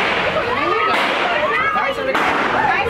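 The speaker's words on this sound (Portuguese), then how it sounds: "Nessas imagens, é possível escutar o barulho dos disparos." Gunshots fired during an armed robbery at a gold shop, heard as sharp cracks over loud, continuous street noise and voices, with a few distinct bursts.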